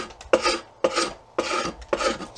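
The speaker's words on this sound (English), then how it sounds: "Kind of use your draw knife as a scraper" A draw knife used as a scraper on an Osage orange bow stave, giving four close, rough rasping strokes in an even rhythm, each a short burst with brief gaps between.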